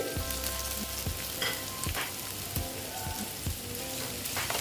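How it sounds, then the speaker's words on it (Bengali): Chopped tomato added to onions frying in a pan for a Bengali egg curry, giving a steady close sizzle with scattered crackles and a few stirring knocks throughout. "এবার দিয়ে দিলাম টমেটো কুচি"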